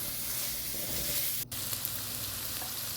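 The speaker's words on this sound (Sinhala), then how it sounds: "දැන් මේක ආයෙත් ටිකක් මේ විදිහට කලවම් කරගන්නවා." Koththu roti ingredients are stir-fried and mixed in a pan, giving a steady, close sizzle with faint scraping and one brief dip in the sound near the middle.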